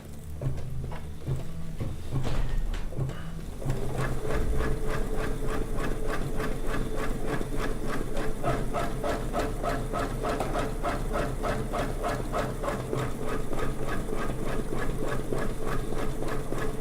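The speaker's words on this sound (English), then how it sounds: "first we are going to stitch down our basting stitch" A home sewing machine runs a long basting stitch through quilt fabric, its motor whirring steadily with a fast, even needle patter for most of the stretch after a brief start-up, loud and close with no talk.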